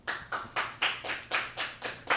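Nine crisp hand claps ring out at a steady, even pace, close and fairly loud, with nothing else heard.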